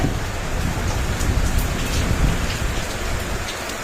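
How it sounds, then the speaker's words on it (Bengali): Heavy rain pours down outside with a dense, steady patter on surfaces, loud and continuous throughout with no talk. "দেখো বাইরে খুব সুন্দর বৃষ্টি হচ্ছে"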